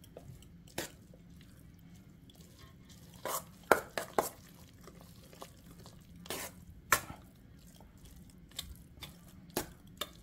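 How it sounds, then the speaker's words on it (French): Waffle batter with purple carrots and cheddar stirred in a bowl, soft scraping and swishing under a low steady hum, punctuated by a handful of sharper utensil clicks against the bowl. "Je mélange tout."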